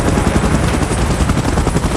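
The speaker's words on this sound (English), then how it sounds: "Chopper in position." Helicopter in the video game PUBG, a loud steady rotor thump and engine roar that fills the whole stretch without a break.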